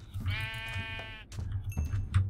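Sheep in the game Minecraft bleat twice, a long wavering bleat followed after a short pause by a shorter one, close and clear over a faint low background hum, with no one speaking.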